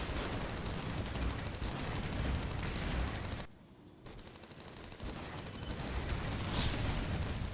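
Bertha artillery in the AirMech battle fires as dense, loud rolling bursts of blasts and impacts, dropping away for a brief lull midway before the barrage resumes.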